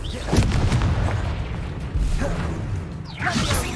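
Confringo fire spell blasts in Hogwarts Legacy combat, a run of deep booming explosions and rumbling impacts, loud and close, with a voice calling out spells.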